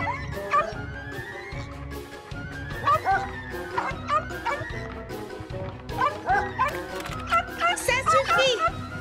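A cartoon dog barks and yips repeatedly in short, energetic bursts, loud and close, mixed with animated character voices talking over the barks.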